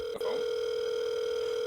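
A telephone gives a steady, continuous electronic tone, interrupted briefly by a short click, heard close and alone.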